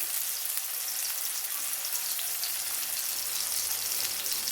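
Onions softening in a pan for an egg chukka gravy give off a steady, fine sizzle throughout, fairly quiet and even, with no voices over it.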